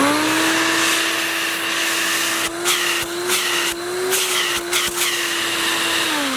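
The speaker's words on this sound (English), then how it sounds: "The suction is incredibly powerful, which I love about this vacuum." A powerful clip-in vacuum cleaner runs steadily for car detailing, a loud close whine with a constant tone, its pitch dipping and surging as the nozzle is pushed against surfaces and briefly blocked.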